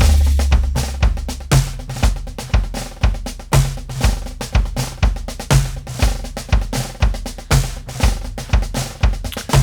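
A drum groove with an overdubbed marching snare part in its original mix, with dense rapid snare rolls and strokes over punchy kick hits in a steady driving rhythm, loud, close and dry.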